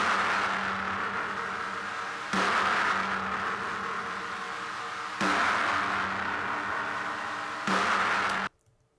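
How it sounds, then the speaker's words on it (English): A snare drum sample, heavily distorted through guitar pedals into a dense mid-range roar, hits four times in long sustained bursts of noise, each cut off sharply, with silence at the very end. "it's definitely started as a snare drum."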